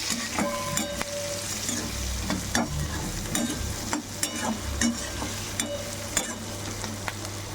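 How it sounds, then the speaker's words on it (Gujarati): Masala spices being stirred into a potato and green chili curry in a pan, with repeated close scrapes and clinks of the spoon over a continuous sizzle. "હવે આપણે મિક્સ કરીશું."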